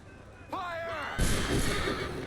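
A cannon volley roars out in Assassin's Creed 3 as a loud, sustained burst of firing that fills the second half, after a shouted command and a brief horse-like call.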